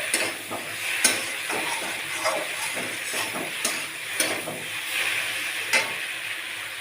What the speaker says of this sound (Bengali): আমি ভালোভাবে পাস্তাটাকে ভেজে নিয়েছি